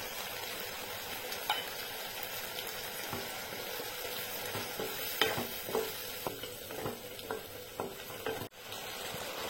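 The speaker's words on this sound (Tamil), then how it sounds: "கொஞ்சம் பச்சை வாசனை போக மட்டும் இதை நம்ம கொஞ்சம் வதங்கிடலாம்." Ground tomato paste and ginger-garlic paste sizzle in a hot pan while being stirred, a steady close frying hiss broken by rhythmic scraping strokes of a spoon, with no talking heard.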